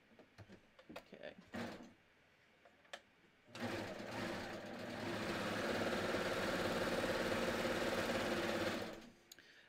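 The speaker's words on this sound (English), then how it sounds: "see how I'm stitching right through that stay tape on the back shoulder?" A sewing machine stitches through stay tape on the back shoulder of a knit tee, with a few clicks and short taps before a steady, fairly loud whirring run of about five seconds that then stops.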